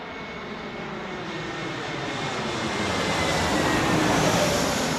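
Airliner landing at Heathrow with flight spoilers deployed, a sustained broad rushing jet roar that swells toward the end, heard alone without talk.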